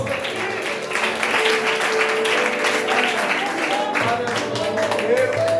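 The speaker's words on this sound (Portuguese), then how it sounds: "bate palmas para Jesus" A church congregation applauds in steady, dense clapping that fills the room, carrying on under a voice speaking over a PA with organ-like tones in the background.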